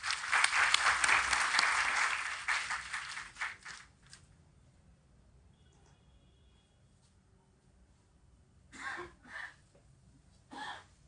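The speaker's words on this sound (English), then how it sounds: "A big round of applause," A round of applause breaks out at the inauguration of an online e-inspection facility at the High Court of Delhi, loud for about four seconds and then fading, followed by faint scattered claps and bursts of noise near the end.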